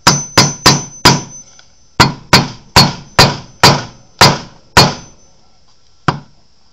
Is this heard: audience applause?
no